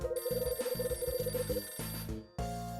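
A phone rings in the video game Last Window, loud and near, with a rapid trilling bell pattern repeating in bursts over a low musical backdrop that shifts near the end.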